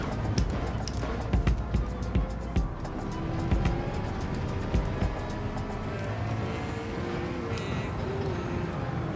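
Race cars in Gran Turismo 7 give a continuous, moderately loud engine drone with shifting pitch, as in a race, alongside occasional soft clicks and thuds.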